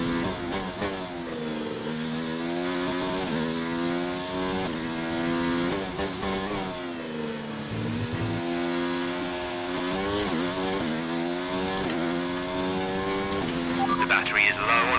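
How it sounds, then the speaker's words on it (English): A Formula 1 car in a racing video game revs continuously as it slides through corners, its high engine whine climbing and dropping again and again, loud and close throughout. "Sliding F1 cars around corners."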